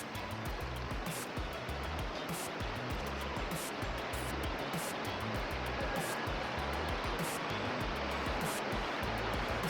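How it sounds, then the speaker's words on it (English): A step waterfall on the way to Manulot Falls rushes in a steady, loud, unbroken roar of falling water, with no voices over it. "Step waterfall."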